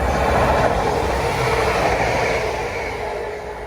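The Chester Express train rumbles through a station near Manchester, a loud, steady roar of wheels and carriages that slowly fades as it passes.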